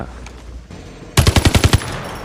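Rapid automatic fire from the VARGO-S gun in Free Fire's training mode, a loud close burst of about seven shots in quick succession after a quieter stretch of game ambience.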